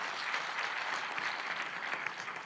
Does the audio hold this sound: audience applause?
yes